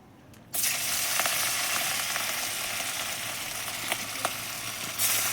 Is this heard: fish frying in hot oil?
yes